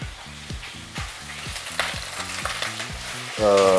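Pumpkin and garlic frying in a pan, with a loud, close sizzle and regular stirring strokes knocking in a steady rhythm, with no talking.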